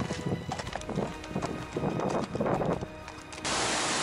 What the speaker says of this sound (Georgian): ცხენები მოდიან